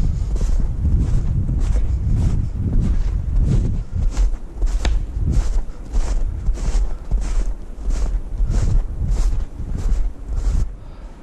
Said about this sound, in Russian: ветер сильный сегодня